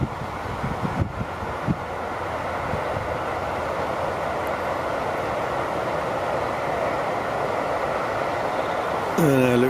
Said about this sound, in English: It looks like a goods train's got cars on the back.